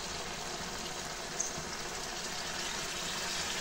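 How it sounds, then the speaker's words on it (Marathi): About a cup of heated water is poured into a pan of fresh turmeric vegetable curry, giving a soft, steady, hissing splash that runs evenly from start to finish at low volume. "1 कपभर पाणी घालायचं."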